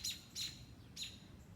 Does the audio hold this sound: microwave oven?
no